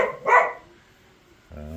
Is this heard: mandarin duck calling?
no